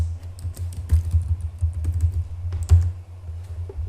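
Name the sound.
typing switch configuration commands on a computer keyboard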